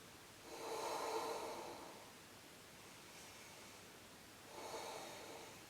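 Slow, deep yoga breaths drawn through the nose during a men's yoga hold, two long airy inhale-exhale swells separated by a quiet pause, close to the mic with no talk.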